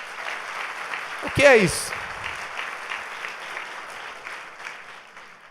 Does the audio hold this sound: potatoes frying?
no